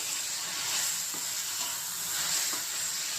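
Spinach and vegetables frying in oil for spinach dal make a steady close sizzle with a few soft stirring scrapes, and no one speaks.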